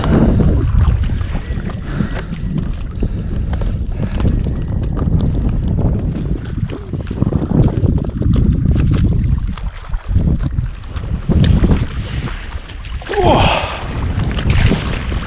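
Strong wind roars continuously across the microphone while paddle boarding on the River Helford in Cornwall, a loud, gusty buffeting that fills the whole stretch, with faint splashes from the board or paddle underneath.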